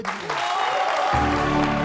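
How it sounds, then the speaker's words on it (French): Audience applauding in a French studio show, a dense burst of clapping that swells after a short moment and holds loud to the end, with a faint voice near the start. "On applaudit un peu."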